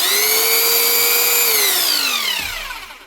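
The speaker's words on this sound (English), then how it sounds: "you can sort of get a clue what the problem is if you run it and drill" An SDS hammer drill with a fault where it won't stay on runs loud and steady with a high motor whine, then the pitch sinks and the sound fades as it winds down at the end.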